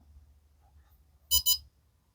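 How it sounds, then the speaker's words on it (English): A Vifly Whoopstor 3 battery charger for FPV micro drone batteries gives a quick, clear double beep on reaching storage voltage, two short high electronic tones against a faint low hum. "once the battery gets to the desired voltage, you'll get a double beep"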